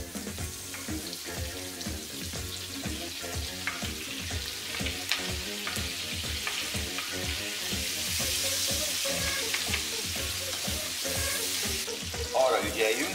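Strips of bacon and sliced onions frying together in a pan make a steady crackling sizzle that grows louder midway, over rhythmic background music, with a brief scrape near the end.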